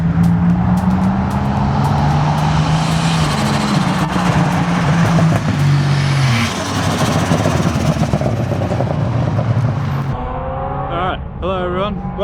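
Turbocharged stock-bottom-end Ecotec V6 car on 98 fuel at a busy Willowbank drag strip test and tune, a loud close engine roar with shifting pitch and crowd noise, then a voice speaking near the end.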